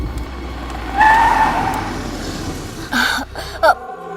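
A car brakes to a stop with a short high tyre squeal over its running engine, followed by brief voices before the engine cuts out.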